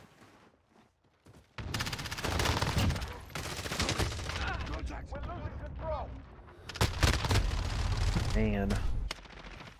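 Rapid gunfire in Call of Duty: Modern Warfare multiplayer, loud bursts of shots and blasts nearly throughout, with someone talking over the shooting.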